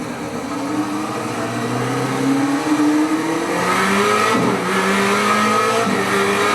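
A race car engine in a sim racing game drones loudly and continuously through a lap, its pitch rising and falling with shifts and throttle changes, with brief tire squeal.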